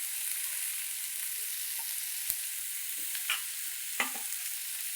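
Dry-roasted matki sprouts and green chillies stirred in a pan make a continuous soft hiss, with a few sharp scrapes and clinks of the spoon against the pan.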